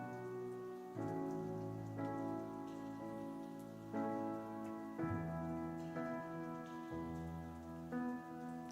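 Rain sound effect layered into a song with an airy piano intro of rolling triads, a soft steady patter running beneath sustained piano chords throughout, no voices.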